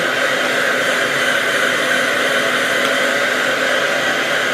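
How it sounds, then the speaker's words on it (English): A handheld blow dryer runs continuously at full power, a loud, steady, close-up rushing whoosh while drying a child's natural hair, with no voices over it. "So I take the blow dryer and I just do this."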